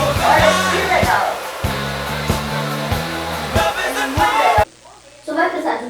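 A handheld hair dryer blows a loud, steady rush of air while a person talks over it, then it cuts off abruptly near the end, leaving only brief talk.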